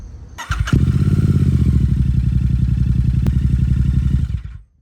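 A Royal Enfield Super Meteor 650 motorcycle cranks briefly, catches and settles into a loud, even, rhythmic idle close by for about four seconds, then shuts off and dies away.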